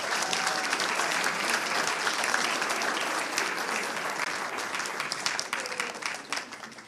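Sustained applause from an audience at a school board meeting, steady dense clapping filling the room for several seconds with no speech over it.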